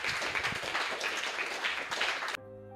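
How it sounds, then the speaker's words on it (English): An audience applauds a robotics competition team's robot, with steady, moderately loud clapping that cuts off suddenly and gives way to a brief tonal musical sting. "I think that deserves a huge round of applause from our audience"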